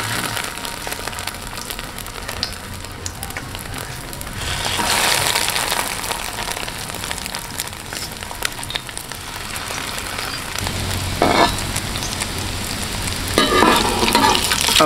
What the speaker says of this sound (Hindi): अब हम कबाब को कढ़ाई के अंदर रखते हैं और फ्राई करते हैं।